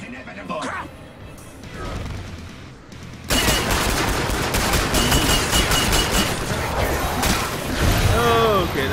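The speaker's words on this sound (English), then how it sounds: "Perhaps some grenades will finish you." Killing Floor 2 combat with grenade explosions and gunfire: quieter scattered shots at first, then a sudden loud, dense barrage of blasts and firing that continues to the end.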